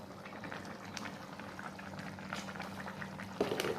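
Chicken liver and gizzard simmer with spices in a pan, a steady close bubbling and boiling with no talk, and a slightly louder stretch of bubbling near the end.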